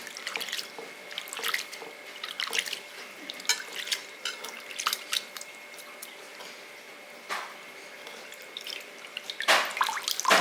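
Soaked white poha is rinsed in water by hand, giving wet squishes and drips in irregular bursts, close and quiet, with no one speaking.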